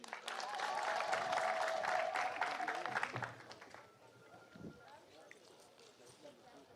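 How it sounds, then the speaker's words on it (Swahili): Audience applause welcomes a speaker at an outdoor launch event for a development project in Isiolo, Kenya. Steady clapping from a large crowd fills the first three seconds, then fades into low crowd murmur and background noise. "Mkaribishe na makofi."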